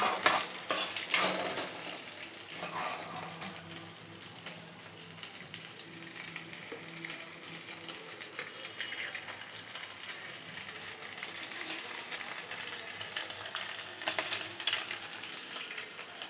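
Green chillies, carrot and cabbage fry in a pan at home for egg noodles, a utensil clinking and scraping as they are stirred over a soft, steady sizzle, with a few sharper metallic knocks at the start.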